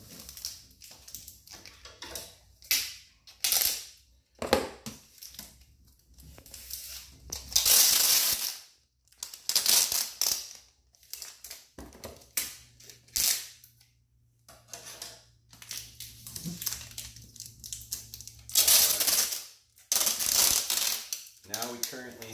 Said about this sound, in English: I apologize about the loud tape noises that are on here.